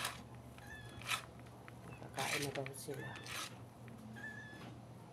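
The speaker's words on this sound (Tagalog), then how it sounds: "Pusa." Cats meowing at feeding time, several short meows and cries scattered through a woman's speech, with zipper-like rustles nearby.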